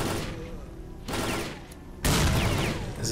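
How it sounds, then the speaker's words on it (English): Grenade blasts tearing through a horde of zombies in S.T.A.L.K.E.R.: Call of Pripyat, two loud bursts a second apart with a rumbling tail after each, the second one heavier, over a low background of game noise. "Just grenade spam them."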